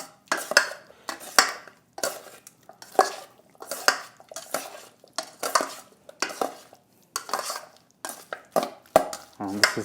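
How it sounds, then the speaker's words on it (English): Marinated shrimp, chicken and onion pieces tossed through breading in a bowl, giving close, steady rhythmic scraping and soft clattering strokes, about one or two per second with no talk. "Just kind of toss and mix this"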